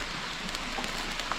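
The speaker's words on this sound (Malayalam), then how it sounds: "മഴ പെയ്യുന്നുണ്ട്." Steady rain falls outside a closed church where oil lamps are being lit, a dense even hiss with a few brighter drop taps and no voices.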